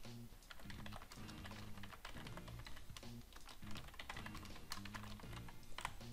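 Someone types steadily on a close computer keyboard while working in After Effects. The keystrokes come in quick, continuous runs over steady background music.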